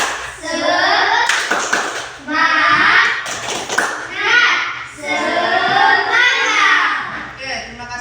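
Primary school class in Indonesia performing a rhythmic tepuk semangat clapping chant: children's voices chant loudly in unison, punctuated by sharp bursts of group claps in a patterned rhythm.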